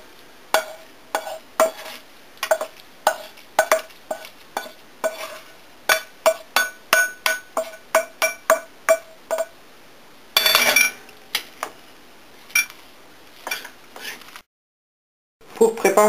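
Meat filling for piroshki mixed in a bowl, a utensil clinking and knocking against the bowl in a steady run of sharp taps, then a brief scraping burst and a few more knocks, close and fairly loud.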